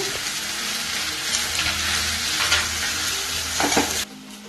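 Slit green chilies stirred into a sizzling frying mixture in a pan for Punjabi chana masala: steady loud sizzle with scraping spoon strokes throughout, dropping off abruptly near the end.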